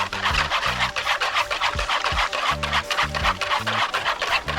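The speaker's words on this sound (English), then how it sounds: "we are whisking everything together." Orange juice marinade being whisked in a bowl for an outdoor woodfire Jamaican roast pig, a steady rapid scratching and rattling rhythm that runs loud and close throughout with no talking.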